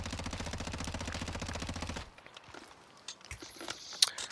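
Video game automatic weapon fitted with a Merc foregrip, firing a rapid loud burst of evenly spaced shots for about two seconds, then stopping, followed by faint clicks and handling sounds.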